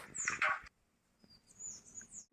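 Tiny house sparrow chicks in a mud nest under a roof edge give a quick burst of high chirps, then fainter, thin calls follow after a short pause.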